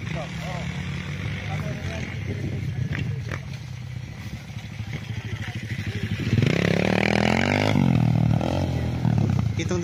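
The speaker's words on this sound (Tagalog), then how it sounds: "Yung nagmumotor na malaking motor." Large motocross motorcycles ride past a rice-field farm lot in Nagcarlan, Laguna, their engines rising into a loud, revving roar mixed with wind, while someone talks throughout.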